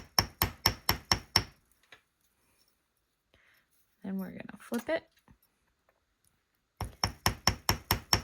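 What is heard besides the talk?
hammering soft copper wire on metal bench block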